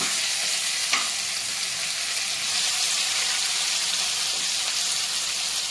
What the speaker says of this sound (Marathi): मी आता आता उलथाने मी फक्त खालीवर करून घ्यायचं